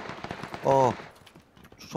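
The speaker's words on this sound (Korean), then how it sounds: "총소리" Rapid bursts of PUBG gunfire crackle in quick sequences, mixed with a short voice-like tone and clicking sounds.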